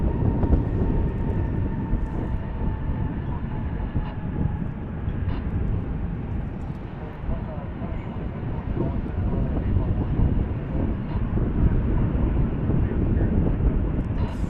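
A Qantas airliner moves on the ground at DFW airport, its engines a steady, broad rumble heard from a distance under wind buffeting the microphone.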